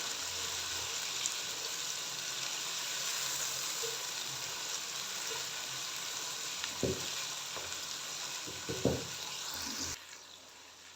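Chicken frying in a pan with tomatoes and sliced green chilies, a steady close sizzle throughout with a few stirring knocks near the end before it quiets.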